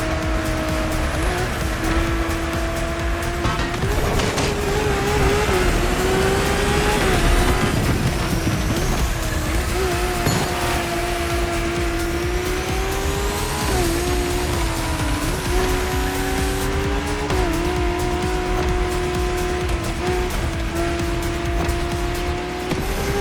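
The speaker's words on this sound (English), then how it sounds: "Drift car is powerful as hell. With so many horses, they'll try to run wild with every acceleration." A powerful drift car in The Crew Motorfest revs and accelerates hard with its engine note rising and falling, while tires squeal and skid almost continuously. It is loud and up close throughout, with no talking.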